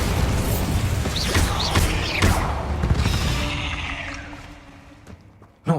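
Bombarda blasting spell in Hogwarts Legacy, several loud thumping bursts and crashes close by amid a spider fight, fading into a quieter tail before one final sharp hit.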